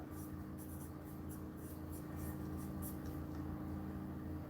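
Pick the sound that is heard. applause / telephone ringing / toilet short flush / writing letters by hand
writing letters by hand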